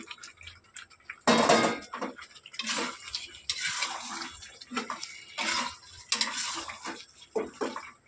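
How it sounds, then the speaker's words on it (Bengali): Pre-fried pointed gourd pieces tipped into a pan, producing clattering knocks and scrapes of utensil on cookware in irregular bursts, close and fairly loud, with no talking. "এবার দিয়ে দেবো পটল যেগুলো ভেজে রেখেছিলাম আগে থেকে সেগুলো"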